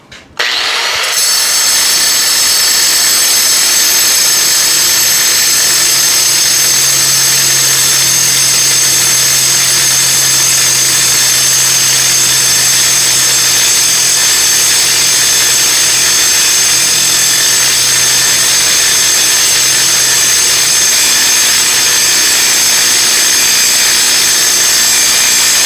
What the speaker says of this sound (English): what I have mounted in the vise is 5/8 all thread. It's kind of a mild steel, but it is 5/8 inch thick, and we'll see how this disc does